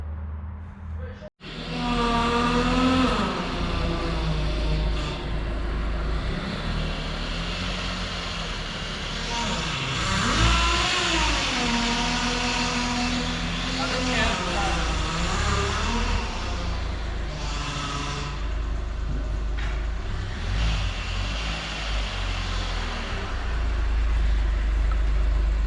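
Volkswagen Golf with faulty power steering and no steering fluid, its engine droning loudly and steadily with pitch swells and dips as it drives back and forth straight, no voices heard.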